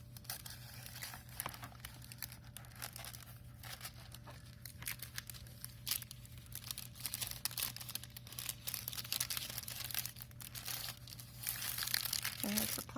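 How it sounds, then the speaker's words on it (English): Close, continuous crinkling and rustling of a plastic cello bag sleeve being handled, with scattered sharper crackles and a faint steady hum beneath. "they'll also come wrapped in, is it a cello bag, a plastic sleeve"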